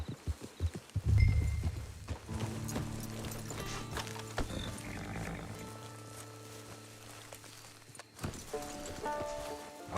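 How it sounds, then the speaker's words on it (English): Horse hooves clop in the Red Dead Redemption 2 video game, a rhythmic trotting beat near the listener with an animal snort and ambient game sounds around it. "Get your horse."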